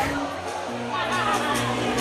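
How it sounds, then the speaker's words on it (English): Arena crowd at a youth 16U AA hockey game between Bishop Gorman and Utah Dawgs roars loudly after a goal, a dense sustained cheer and babble filling the whole moment. "as the crowd erupts over here"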